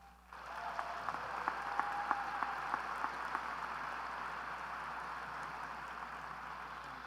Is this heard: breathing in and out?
no